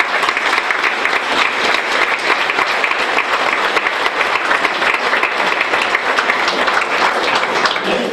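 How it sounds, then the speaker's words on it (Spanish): Sustained audience applause at a local festival tribute honouring couples married fifty years, dense and steady clapping from a large crowd for the full stretch with no break. "Y por eso también vamos a darles a todos un gran aplauso."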